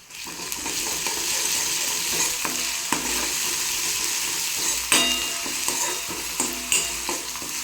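Chopped ginger and garlic fry in hot oil in a pan with a steady bright sizzle, punctuated by sharp scraping and clinking as a spoon stirs them around.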